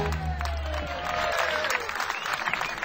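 An audience at a live show by a band claps and cheers loudly, a dense burst of applause that starts right after a held musical note and stays strong to the end.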